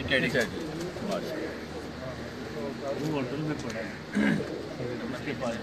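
Soft coos from white, red-eyed pigeons repeat a few times against a background of people talking on a rooftop, with steady low hum throughout.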